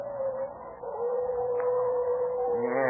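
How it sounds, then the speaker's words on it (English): Coyotes howling at night in an old radio drama, a sustained, wavering howl rising and holding at moderate volume, eerie and drawn out, with no talk over it. "them slinking coyotes sound like banshees away in the night"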